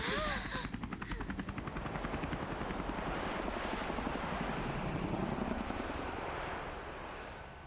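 The catacopter flies in the video game Persona 5 Royal, a rapid, steady rotor chop that stays loud and close throughout.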